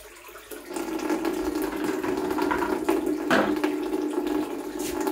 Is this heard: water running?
yes